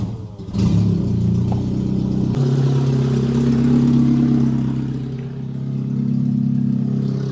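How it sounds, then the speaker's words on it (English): Citroen BX Break 4x4 engine cranks, catches and settles into a steady, close idle, the hum rising and easing slightly as it keeps running. "So now I think I can fire it up and test."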